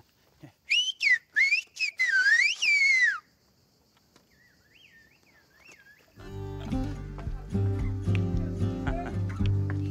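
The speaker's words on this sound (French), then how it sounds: "Et qui c'est qui sifflait?" A shepherd on Euboea island, Greece whistles loudly and close in a rapid run of bright warbling blasts, followed by a softer, fainter whistle and then a burst of louder background sound with voices.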